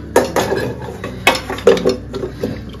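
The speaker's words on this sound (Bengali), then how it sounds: "অগত্যা আমাকে আমার একটা কড়াই মাজতে হলো" A metal wok (kadai) is scrubbed in a home kitchen, close, loud clanks and scraping knocks arriving in an irregular rhythm, each striking the pan with a bright metallic ring.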